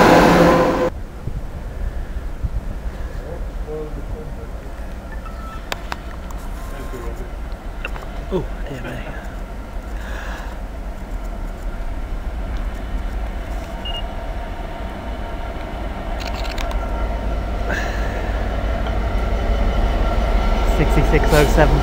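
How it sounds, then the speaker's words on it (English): Cross Country Turbostar diesel train passing through Nuneaton station, a steady rumble and wheel clatter that grows louder toward the end, with a voice talking over it. "there's the 13:10 cross country Stansted Birmingham, excuse me, Turbostar 109"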